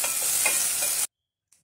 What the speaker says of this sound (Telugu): కట్ చేసి పెట్టుకున్న కరివేపాకు, ఇప్పుడు పుదీనా, ఇవి కాసేపు కలుపుకుంటూ ఫ్రై చేసుకుందాం